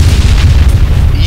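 Explosion in the video game Arma 3, a loud, deep rumbling boom that rolls on without a break and fills the whole moment, with no voices over it.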